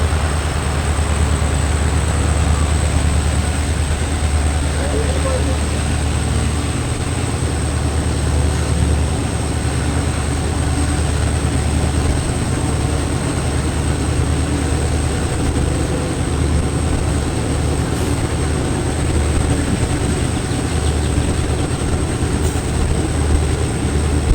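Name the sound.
passenger train running from Vallappuzha station toward Shoranur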